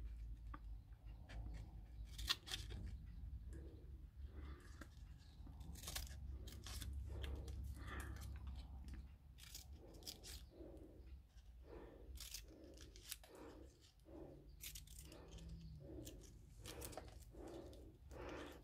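Scissors snip steadily through paper or card while a shape is cut for handmade holiday decorations, a fast run of crisp, close cuts alone with no talk.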